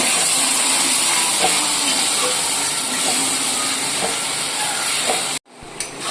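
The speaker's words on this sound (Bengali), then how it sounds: "সবগুলো দিয়ে আমি এবার ভালো করে মশলাটাকে কষিয়ে নেব" Masala paste of ginger, green chili and chopped tomato sizzles steadily in hot oil in a pan for chicken masala, a loud continuous hiss with faint stirring taps. It cuts off abruptly near the end, then resumes more quietly.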